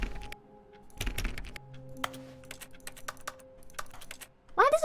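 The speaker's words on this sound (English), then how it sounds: "Why does everything sound like I'm hitting a keyboard?" Clicky keyboard-like tapping sounds in The Stanley Parable: Ultra Deluxe, sparse bursts of crisp clicks separated by quiet gaps, with a short voice sound at the end.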